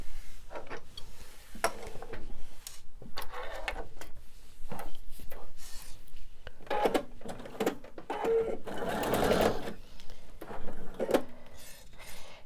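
A home sewing machine runs in short, uneven bursts with clicks and mechanical whirring while stitching a pinned quilted candy dish, close and fairly quiet, with no talking.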